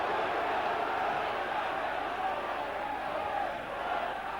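A large rugby crowd at a St Helens match against Australia roars steadily and urges the Saints on, a dense and sustained wall of voices with no pauses.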